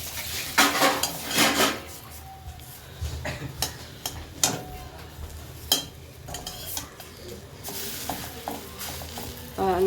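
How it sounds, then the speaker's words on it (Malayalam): Pav bread warming in butter in a pan for Mumbai street-style pav bhaji, with a steady close sizzle broken by repeated scraping and clinks of a spatula against the metal pan. "ഇതിട്ട് നന്നായിട്ട് ബട്ടറിൽ ചൂടാക്കി എടുക്കുക"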